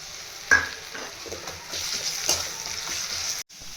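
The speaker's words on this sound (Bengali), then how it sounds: "অল্প জল দিয়ে দিয়ে ভাজবো রসুন আর পেঁয়াজটাকে" Onion and garlic paste frying in a pan, a moderate sizzle with a sharp scrape at the start and repeated stirring strokes, cutting off abruptly near the end.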